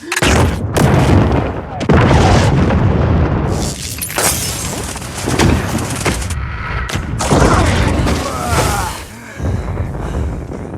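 Explosion in a Venom film scene, a loud sustained roar of blasts, crashing debris and shattering bursts that keeps filling the mix, with brief drops in between and no clear talk.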